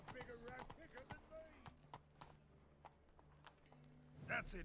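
Roach, a horse in The Witcher 3, clip-clops along with steady hoofbeats at a walking pace, fairly faint beneath a quiet game soundscape with a low hum and a brief chime near the end.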